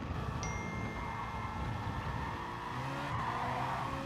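In Gran Turismo Sport, a race car brakes hard and its tires skid and squeal over the steady roar of its engine. The sound is loud and continuous, with no voices.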